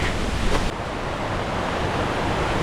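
A waterfall along a river hiking route roars as a dense, steady broadband rush of falling water, close and loud with no voices.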